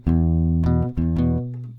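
Two plucked guitar notes alternate, each ringing clearly before the next, played close and alone with no talking.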